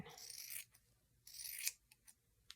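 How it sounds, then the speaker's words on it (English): Scissors cutting through foam for a simple beginner monster puppet: two long crisp snipping strokes with a few short clicks of the blades between them, close and alone with no talk. "a scissors will do just fine"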